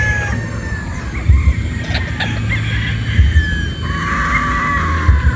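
Boston Roundhead brood stags, young gamecocks, call in short strained crows and squawks repeating every couple of seconds close by, over a busy rumbling background.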